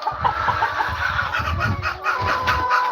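Farm chickens cluck loudly and continuously, a dense flock chorus of overlapping clucks and calls close by with no talking.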